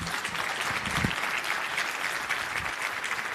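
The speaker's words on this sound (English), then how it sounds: "Can we get another round of applause for Erica?" A conference audience gives a speaker a steady, full round of applause, dense and even throughout, with no talking over it.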